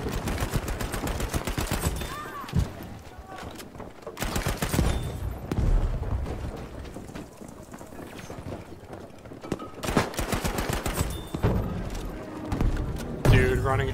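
Suppressed weapon fire in a video game shooter: repeated bursts of muffled rapid shots in rhythmic clusters, close and fairly loud, separated by brief pauses with mechanical clatter, running throughout the stretch.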